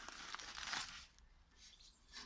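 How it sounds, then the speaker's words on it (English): A plastic bag holding the parts of a folding wood pocket stove crinkles close up, with rustling that crackles loudest in the first second and then fades to softer handling. "The pieces are contained in this plastic bag"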